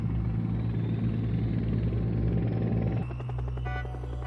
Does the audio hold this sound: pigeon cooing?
no